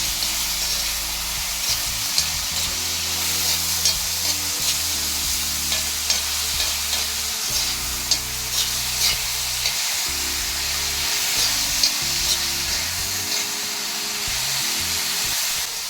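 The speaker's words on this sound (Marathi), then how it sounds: "बारीक चिरून घेतलेले आकूर चांगले परतून घेणार आहे तेलामध्ये." Finely chopped aakur greens sautéing in hot oil in a pan produce a steady close sizzle, with repeated scraping and clinking strokes of a stirring utensil across the whole stretch and no speech.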